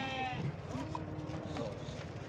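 Sheep bleat at a busy weekly livestock souk in Fqih Ben Salah, Morocco. Several wavering calls rise over crowd murmur and nearby voices in a lively outdoor market setting.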